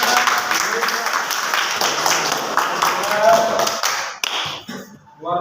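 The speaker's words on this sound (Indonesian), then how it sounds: "tepuk tangan dulu untuk kawan kita" Classmates in a school classroom applaud a fellow student, with dense, close hand clapping that carries on steadily before stopping abruptly. A few voices can be heard at the end.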